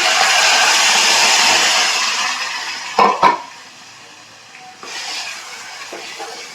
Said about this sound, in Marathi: डाळ आता फोडणीमध्ये टाकून घेऊया आपण